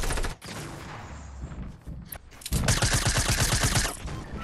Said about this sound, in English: I'm gonna try and shoot him.